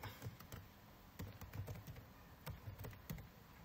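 Keys clatter on a computer keyboard as an email address is entered, a steady run of light close taps in irregular bursts with no talking.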